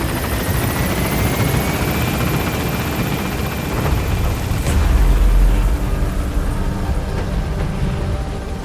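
A helicopter in Metal Gear Solid V: The Phantom Pain lifts off from a landing zone, its loud, steady rotor roar swelling briefly with a deep low rumble midway as it gains altitude.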